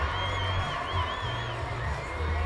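Stadium crowd filing in before a Jesuit versus Folsom high school football game, a steady broad murmur of many voices with scattered shouts and whoops, continuous and moderately loud with no pauses.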